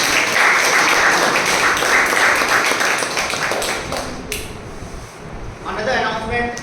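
Audience applause at a Toastmasters club meeting, a dense steady wash of clapping that fades toward the end and swells briefly again.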